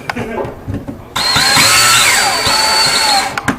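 A power drill drives a screw through drywall during a cable installation, whining loudly and steadily for about two seconds after a quiet start with faint handling noises, then stopping abruptly.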